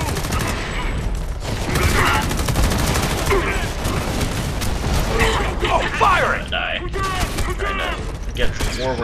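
Gunfire in the video game Homefront The Revolution, a busy fusillade of shots and mechanical clatter mixed with explosions and game effects, steady and fairly loud, with voices talking over it.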